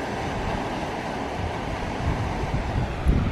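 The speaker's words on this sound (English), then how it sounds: "It is kind of breezy and a little cool, but very comfortable." Breezy wind at the seaside at Pescadero, a steady broadband rush mixed with distant surf, continuous and fairly loud, swelling slightly near the end with no talking.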